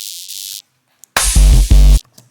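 Distorted sub bass layer in a hip-hop track: a short burst of gritty, heavy low-end hits twice in a row, loud and alone after a brief hissy fragment and near silence.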